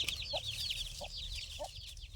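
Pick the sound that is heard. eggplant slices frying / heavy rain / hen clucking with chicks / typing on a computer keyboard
hen clucking with chicks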